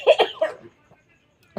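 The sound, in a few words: coughing after trying to cry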